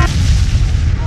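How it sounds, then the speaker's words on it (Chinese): A loud explosion sound effect for a gadget that blows up on a teacher's lectern: a single sustained, booming low rumble heard alone for about a second. "会爆炸。"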